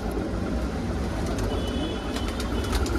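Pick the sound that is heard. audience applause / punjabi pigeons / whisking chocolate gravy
punjabi pigeons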